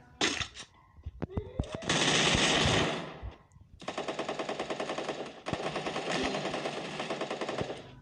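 Bursts of automatic gunfire in the video game Garena Free Fire, loud and close, ranging from short rapid volleys to long sustained strings of shots, with a few gaps between them.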